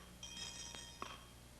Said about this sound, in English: This bell answers questions, ladies.